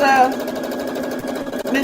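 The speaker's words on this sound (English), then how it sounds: "So maybe the sewing machine is like, whoa." A sewing machine piecing a beginner's quilt top runs very fast, its needle hammering in a rapid, even mechanical rattle up close while a person talks over it.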